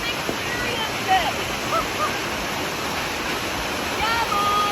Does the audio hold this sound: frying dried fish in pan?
no